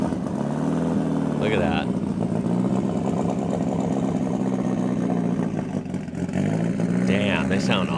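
Ford Sierra Cosworth rally cars with left-hand drive and Spanish E plates, engines droning and revving loudly and continuously nearby, with talking over the engine noise.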